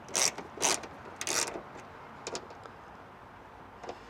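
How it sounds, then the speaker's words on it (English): A T30 Torx driver works the screws of a Nissan Pathfinder rear door, giving a few sharp ratcheting metallic clicks in short bursts, then quieter scattered ticks against a low background hum. "now we're gonna take a T30 Torx and start loosening these guys up"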